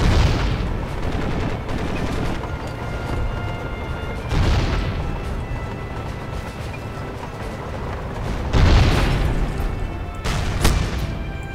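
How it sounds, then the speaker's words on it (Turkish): Several heavy explosions in the video game Crysis, with deep booming blasts near 0, 4.5 and 8.5 seconds over a constant rumble of gunfire and battle noise, plus a sharper crack near the end. "Tamam güzel patladı o da."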